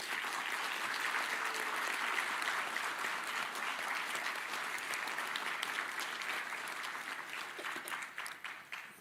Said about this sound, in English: give yourself a big applause and thank you